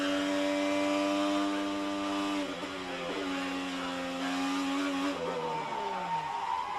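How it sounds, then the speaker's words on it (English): An IndyCar engine screams at high revs as the driver gets on the throttle early and the wheels spin. The loud, tonal whine sweeps and dips in pitch several times, with no speech. "He picked up the throttle so early that he got wheel spin on the throttle, but kept it out of the fence."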